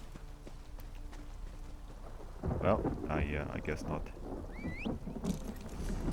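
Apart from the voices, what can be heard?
horse hooves clip-clopping in video game Elder Scrolls Online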